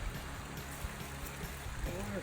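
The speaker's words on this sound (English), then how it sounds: "This running water" A mountain stream with pretty good flow near the top of a 1,700-foot climb on an Arkansas hiking loop, giving a steady, moderate rush of running water that carries on throughout with faint low rumbles beneath.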